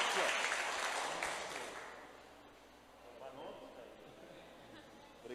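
A church congregation applauds a member, Leonardo Barbosa, with fairly distant clapping that starts full, fades over a few seconds and gives way to murmured chatter and voices.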